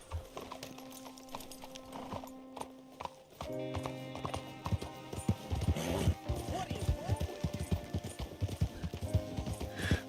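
Horse hooves clip-clop in a steady, quickening rhythm close by in the video game Red Dead Redemption 2, with a brief whinny and game music and ambience underneath.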